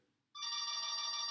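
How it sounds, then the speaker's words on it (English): A mobile phone starts ringing abruptly after a brief quiet moment, a loud, steady electronic ring tone close by with no talk over it. "That's my phone, so I'm not going to answer it."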